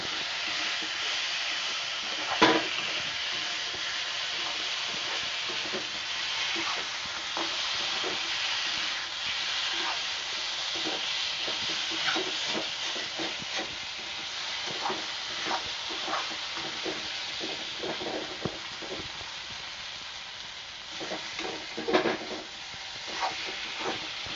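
Desi chicken frying in a pan for chicken soup curry, a steady close sizzle broken by repeated scrapes and clacks of stirring, with a few louder knocks, and no talk.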